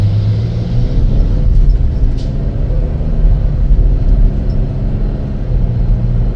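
A 2020 Chevrolet Traverse AWD 3LT driving off from a stop, heard as a steady low engine and road rumble from the cabin, loud and continuous without speech.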